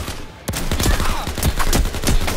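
Rapid gunfire rattles in the zombie shooter game Overkill's The Walking Dead, a dense burst of sharp repeated shots following a brief lull, loud and close.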